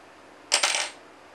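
A small metal screw from a polished EK GPU water block drops into a container, giving one bright metallic clink with a short rattling tail, close and clear against quiet.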